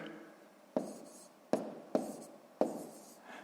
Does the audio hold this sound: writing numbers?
yes